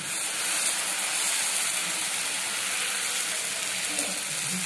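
Dosa batter poured onto a hot cast-iron griddle for a spicy masala dosa gives a steady, close hiss and sizzle that holds evenly throughout, with no talking over it.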